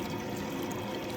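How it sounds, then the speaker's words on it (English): Tap water runs steadily into a bowl of rinsed oysters, a soft continuous splashing and trickle, close and quiet, with no voices over it. "I went ahead and run some more water in that"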